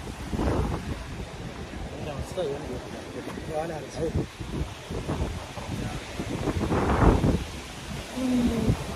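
Strong wind gusts roar across the open seashore in Cyprus during a cycling trip, buffeting the microphone in a steady, rumbling rush that swells and eases, with a voice speaking over it.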